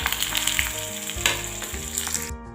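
Pointed gourd pieces fry in oil over a tempering of small cardamom and dried fenugreek leaves for a vegetarian curry, producing a loud, close, crackling sizzle with intermittent stirring scrapes and no talking.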